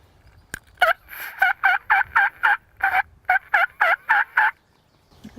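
Turkey gobbling during an Ontario wild turkey hunt comes as a sharp click and then a rapid run of about a dozen loud, close gobble bursts, alone with no talk.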